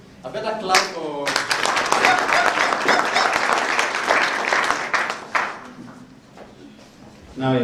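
An audience at a university college event bursts into sustained loud applause, with dense clapping filling the room and cheering voices mixed in before it fades.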